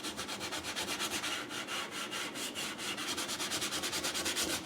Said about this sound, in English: I'm just going to scrub with the green section.